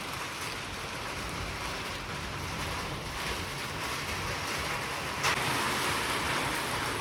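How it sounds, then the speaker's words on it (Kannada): Steady rain falling for several minutes during a power cut, a continuous soft hiss with a brief louder swell near the end. "ಮಳೆ ಅಂತೂ ಈಗ 10 ನಿಮಿಷ ಕಟ್ಟಾಕತ್ತೈತಿ"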